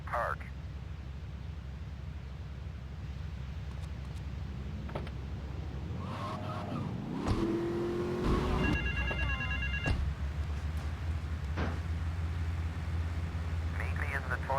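A ringing payphone in the video game GTA 3 comes in partway through, its repeated electronic tones rising over a constant hum of city traffic and passing vehicles.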